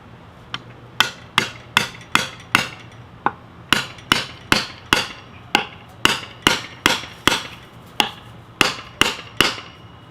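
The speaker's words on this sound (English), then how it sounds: "it will bend left or right depending on how I hammer it into this thing" Repeated sharp hammer strikes driving a SOG Seal Team knife blade into wood, about twenty evenly paced blows that ring briefly, close and loud with no voices.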